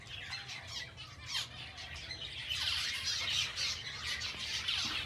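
Chinese hens and a rooster in a pen keep up a busy chorus of squawks and chirps, overlapping and steady, moderately close with no speech.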